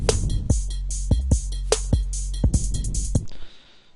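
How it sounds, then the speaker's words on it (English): Deep sustained hip hop bass from a BassMaster plugin, booming low notes under a crisp beat of sharp snare and hat hits, loud and punchy for about three seconds before cutting off. "how I make a good bass sound"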